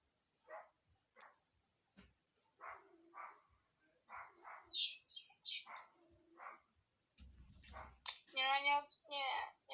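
A dog barks a few times in the background, short sharp yaps scattered among people talking close by indoors.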